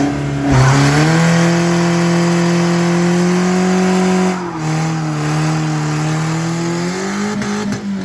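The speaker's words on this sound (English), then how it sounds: "Your first burnout!" A BMW E46 sits revving hard through a burnout, its engine holding a loud steady roar with rising and dipping pitch while the tires squeal continuously, close and alone with no voices.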